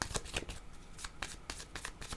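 A deck of cards is shuffled during a card reading, with repeated quick riffling bursts following one another at an uneven rhythm, close and fairly soft.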